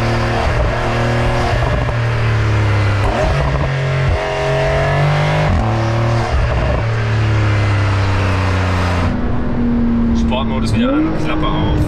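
Porsche 911 (992) Carrera S engine in sport mode with the exhaust flap open, loud and close, revving up and down through gear changes as it accelerates, with someone talking over it.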